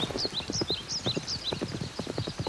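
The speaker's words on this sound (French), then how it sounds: "Galop, galop. Encore plus vite." Horse hooves clip-clop in a quick galloping rhythm, steady and fairly close throughout, with high-pitched bird-like chirps overhead and no talking.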